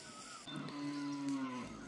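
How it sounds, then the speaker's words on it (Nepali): An ox lets out a single low, drawn-out moo lasting over a second, fairly close and alone without any talk, during heavy rain with hail on a farm. "हाम्रो गोरु पनि कराइरहेको छ"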